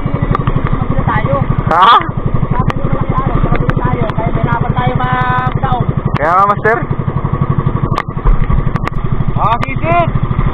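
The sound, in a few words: new boat engine running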